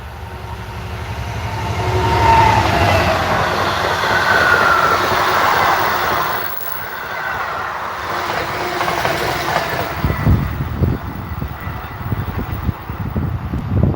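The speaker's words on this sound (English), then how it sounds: "Oh, it's not a 350. It's oh, is it an EWS? It's freight." An EWS freight train passes a station platform, loud and close with a sustained rumble and wind rush, then rhythmic clickety-clack of wagon wheels over rail joints as it continues by.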